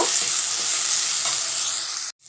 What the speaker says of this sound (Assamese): মছলাখিনি ধুনীয়াকৈ ভাজ খাই গৈছে।